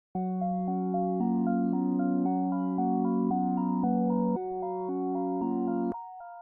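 A synth melody built in Serum for a slowcore track in FL Studio plays clean and alone, sustained chords and a simple stepping tune over a steady low note, ending on a short final tone.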